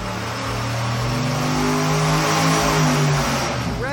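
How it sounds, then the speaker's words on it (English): Turbocharged engine on a dynamometer, exhaling through an open, longer 4-inch exhaust pipe: a loud, steady roar with harmonics climbing as revs rise, held close and alone for about four seconds. "The 4-inch pipe we just added is longer than the very first one that we ran, so we're gonna retest it open"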